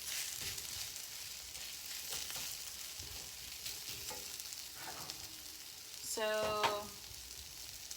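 Breakfast hash sizzles and crackles steadily in a hot frying pan, with a brief spoken voice rising over the frying near the end.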